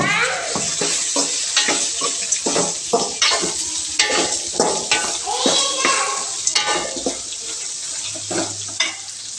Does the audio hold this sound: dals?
yes